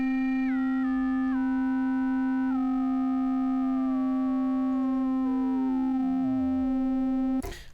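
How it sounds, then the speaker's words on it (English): Metallic ring-modulated tone from an Arturia Yamaha CS-80V synthesizer, with a fast-oscillating sine wave as modulator over a steady sine drone, its clanging partials stepping and sliding downward before cutting off abruptly near the end. "It's the sine wave, which is oscillating very quickly now."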